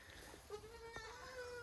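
A young goat kid, only a few days old, lets out a faint, drawn-out bleat that wavers in pitch over quiet background noise.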